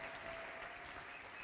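A church congregation applauding, a dense, even wash of clapping that holds steady throughout a brief moment, with no voices rising above it.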